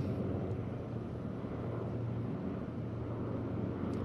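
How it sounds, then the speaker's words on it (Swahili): Five military helicopters, led by an H225LP, fly past in arrow formation at a military display, producing a steady, distant, low engine drone that holds evenly throughout with no voices. "helikopta idadi 5 ambazo zinapita mbele ya jukwaa kuu"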